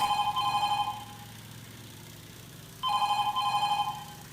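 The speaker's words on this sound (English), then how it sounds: "And the phone's ringing." In Farming Simulator 22, a phone in a farm dealership rings loudly in repeated electronic bursts, with one ring, a pause, then another. A low idling hum continues in the background.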